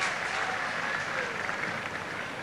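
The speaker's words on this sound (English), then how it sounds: "It roused the Australian crowd here a little bit" An Australian cricket crowd at a 1970–71 Ashes Test applauds a boundary, a broad, steady wash of distant clapping that fills the short moment.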